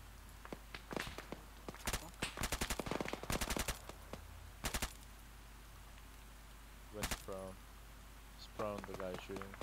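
Bursts of automatic and single gunfire in the military shooter Arma 3, several loud volleys through the first five seconds and sharper shots near the end, with radio-style voices talking between them.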